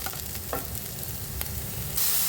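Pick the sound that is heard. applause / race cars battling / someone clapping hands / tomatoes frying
tomatoes frying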